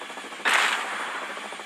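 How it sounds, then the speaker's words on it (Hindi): A military vehicle's mounted gun fires in the video game Dude Theft Wars, a sudden loud burst of rapid shots that starts abruptly and rattles on steadily. "ओह, तो ये फायरिंग भी करता है।"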